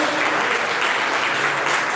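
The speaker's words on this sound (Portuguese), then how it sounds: "vamos aplaudir o Senhor Jesus" A church congregation breaks into steady, loud applause, many hands clapping together in a dense, even wash of sound.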